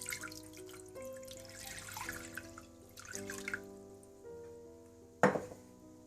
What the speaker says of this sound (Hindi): सबसे पहले आप देचकी में पानी डाल लें।